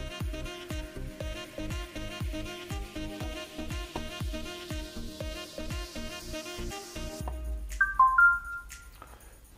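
A Xiaomi Redmi 5 Plus smartphone powers on to a short chiming melody over a rhythmic beat, followed by a few bright electronic tones and clicks near the end, with no talking.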